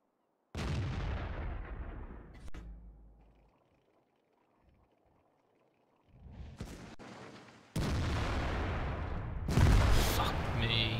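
A tank's main gun fires in World of Tanks with a heavy booming blast that decays over a couple of seconds, followed by quiet ambience and then further loud rumbling bursts of battle noise.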